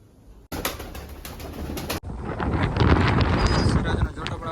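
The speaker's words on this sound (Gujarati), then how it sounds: "બંને કબૂતર બેઠા અંદર" Two pigeons settled indoors in a room loft, with bird sounds that fit soft cooing heard over a steady rushing background, fairly close and moderately loud.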